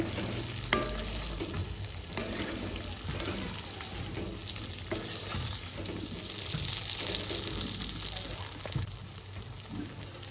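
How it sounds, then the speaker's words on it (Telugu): Chicken frying in a pan for a Telugu-style chicken fry, a continuous sizzle with stirring and scraping noises over about ten seconds, steady and close. "ఇప్పుడు చూడండి బాగా ఫ్రై అవుతుంది"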